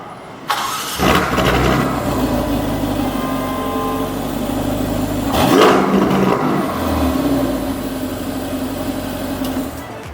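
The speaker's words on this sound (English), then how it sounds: "let's listen to the startup, and let's give it a rev" A 2018 Ferrari Portofino engine cranks and fires up, settling into a rumbling idle, then revs up sharply once before dropping back to a steady idle.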